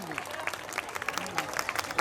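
An audience claps at a primary school function, a brief burst of scattered, moderately close applause with a voice speaking over it.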